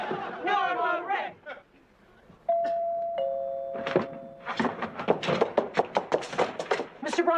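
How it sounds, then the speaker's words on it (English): A two-tone doorbell chimes indoors in a sitcom scene, a clear ding-dong ringing out between stretches of voices talking. "It's the doorbell, not the phone."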